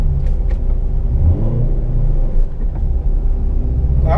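A manual stick-shift car engine pulls steadily in gear during a driving lesson, a loud continuous rumble close by with no talk over it.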